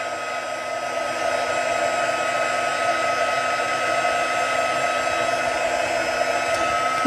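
A heat tool blows steadily onto watercolor on a handmade birth card made with Stampin' Up flower supplies, a loud, even, close whir that runs unbroken throughout with no talk.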